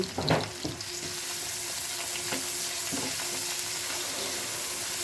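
Ginger-garlic paste fries with turmeric in a spice masala, giving a steady close sizzle with a few stirring scrapes near the start, and no voices.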